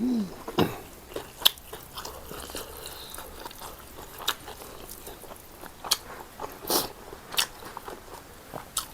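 Crispy pork rinds are bitten and crunched at close range during a spicy papaya salad and rice noodle eating session. Sharp, scattered crunches stand out over softer, continuous chewing.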